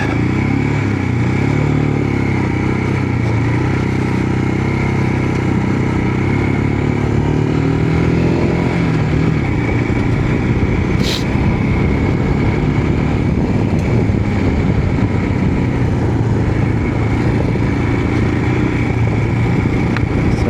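An adventure motorcycle rides off-road in second gear, its engine droning loud and unbroken near the mic with small surges of throttle. Wind rush and rattling gravel sit underneath, and nobody speaks.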